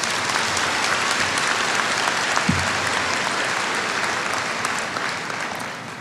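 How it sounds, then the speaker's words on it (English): Steady, dense applause from a large crowd at a spring commencement ceremony fills the room at a constant level, with no voices standing out. "Please give them a round of applause."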